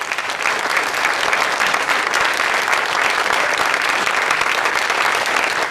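An audience in Chicago applauds with dense, sustained clapping that stays steady and fairly loud from start to finish, with no one speaking over it.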